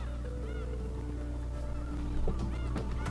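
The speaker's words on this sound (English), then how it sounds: "I'm hearing the seagulls." Seagulls calling in the Umineko visual novel game, a run of repeated, rising cries over steady sea ambience with a soft voice in the background.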